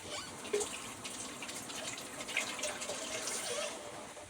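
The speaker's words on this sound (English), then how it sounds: "this is the garlic for the fish. I'm going to rinse it off." Tap water running steadily over garlic being rinsed in a kitchen sink, a continuous soft splashing hiss, close and moderately quiet with slight variations as the water hits the cloves.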